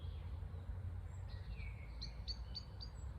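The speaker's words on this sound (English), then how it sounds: "So today I hear birds." Outdoor birdsong in a quiet setting: several short chirps and whistled calls, fairly faint, over a low rumble of distant traffic.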